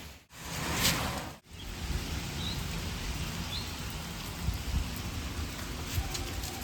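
Light rain falls steadily as a soft, even hiss of fine drops, close and continuous, with a brief dip partway through and no voices.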